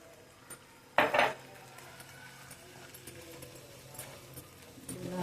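Onion and paneer curry being stirred in a pan, opening with a loud metallic scrape of a spoon against the pan, followed by faint quieter clinks and low cooking noise.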